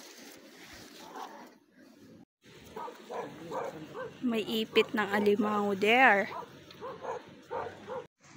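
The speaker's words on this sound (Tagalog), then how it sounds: "may bantay na mga aso" Guard dogs at a hut beside a fishpond bark and yip in short bursts, moderately near, mixed with outdoor chatter and someone talking over them.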